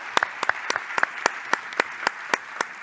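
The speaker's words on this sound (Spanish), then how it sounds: "Bueno, pues un fuerte aplauso para los ponentes," Sparse, scattered hand claps from a small group applauding speakers after a debate, sharp individual claps spaced irregularly at moderate distance, no voices.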